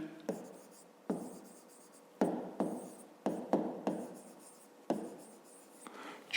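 Pen strokes scratch across paper as the four-digit number 9999 is written out by hand, about eight short bursts in an uneven rhythm, close and quiet, while someone speaks softly over them.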